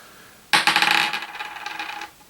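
Dice roll across a table during a Machi Koro board game, a sharp clatter followed by a rapid series of bouncing clicks that taper off within about two seconds.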